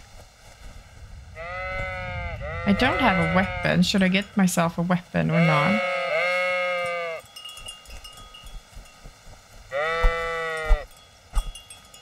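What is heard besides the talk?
sheep bleating in the video game Kingdom Come: Deliverance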